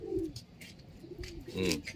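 A pigeon coos softly twice, low throaty calls near the start and end, with faint background noise between.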